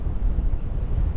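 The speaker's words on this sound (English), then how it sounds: "it's blowing a gale on here. This is mental, the wind's like just gusty" Strong gusty gale buffets the microphone on a seaside pier, a steady low roaring rumble with surging gusts and no talk.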